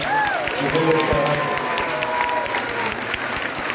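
An audience at a temple gathering applauds a performer with sustained, moderately loud clapping, while someone in the crowd whistles or calls out briefly near the start over the steady patter.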